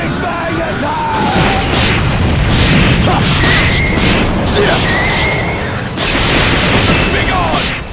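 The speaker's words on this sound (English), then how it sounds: "Take this! Big Bang Attack!" Vegeta's Big Bang Attack energy blast in the Dragon Ball Online video game: a loud, sustained, booming explosive roar filling the whole stretch, with a brief dip near the end before it surges again.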